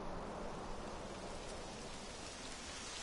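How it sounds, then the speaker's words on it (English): Steady, dense rainfall hisses evenly throughout, with no talking, in the video game Dragon Quest XI. "It would have to go and start raining, wouldn't it?"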